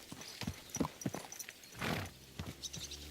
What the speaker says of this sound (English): Is this your first time riding a horse, you moron?